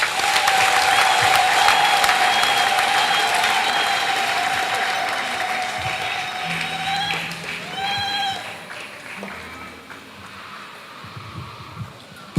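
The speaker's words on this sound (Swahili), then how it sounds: "Yesu, makofi mengi sana." Church congregation applauding, a loud dense wash of clapping from a large crowd with a sustained tone over it, gradually fading away.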